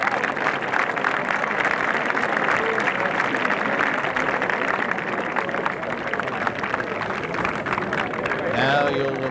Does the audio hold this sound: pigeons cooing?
no